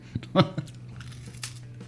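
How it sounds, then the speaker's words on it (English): A Ritz cracker being bitten and chewed close to the mic, a few short dry crunches clustered early, then softer chewing fading out. "I'm gonna get a neutral or a palate cleanser with a Ritz cracker, so you'll be able to hear me crunching."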